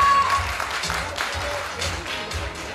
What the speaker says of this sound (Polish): Wielkie brawa dla finałowej szóstki.